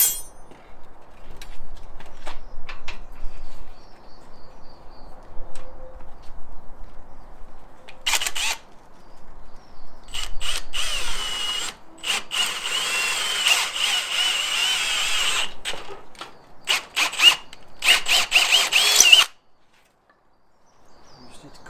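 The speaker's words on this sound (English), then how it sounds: "Just need to make our hole through the shaft now." A power drill bores a hole through the wooden handle shaft of an old garden fork in short bursts separated by quiet pauses, close and fairly loud, with a louder sustained run near the end before it stops.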